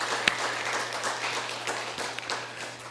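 A church congregation applauds together at a worship service, a steady mid-level wash of clapping with a sharper clap standing out near the start.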